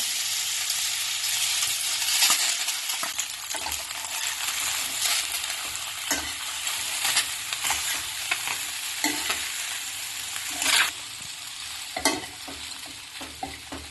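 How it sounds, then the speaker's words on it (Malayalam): Cooked pasta is stirred into melted butter in a hot pan for a pesto pasta, giving continuous sizzling with repeated scraping and clinking stir strokes, close up and without talk. "ബട്ടർ ഉരുകുമ്പം അതിലേക്ക് നേരത്തെ വേവിച്ച് വെച്ച പാസ്ത ഇട്ട് ഇളക്കി കൊടുക്കാം."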